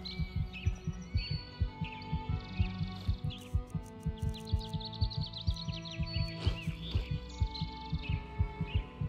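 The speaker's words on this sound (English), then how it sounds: "I can hear my heart beating through my neck" A steady, loud thumping heartbeat from the Skyrim Enderal mod game, pulsing in a regular double-beat rhythm throughout, with faint tonal game ambience and chirps layered behind it.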